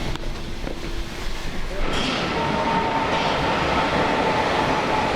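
A Hamburg metro train rides along with a steady, loud rumble and rattle of wheels on track, heard from inside the car, with faint voices in the background.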